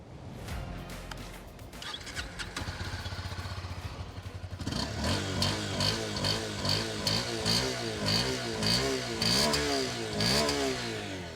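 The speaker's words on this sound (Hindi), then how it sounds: "तो ये कुछ इस तरह से इसका एग्जॉस्ट नोट साउंड करता है होंडा की CB300F का।" A Honda CB300F motorcycle with a compact, chunky exhaust idles, then rises into a steady, loud, throbbing exhaust note with repeated revs, heard close and without talk.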